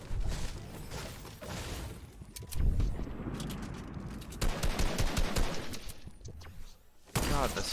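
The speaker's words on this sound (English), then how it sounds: "what are those explosions, bro?" Rapid gunfire and explosions from a Fortnite Season 7 live event crackle in dense, loud bursts, with sharp booms and fusillades, rising and falling across the stretch.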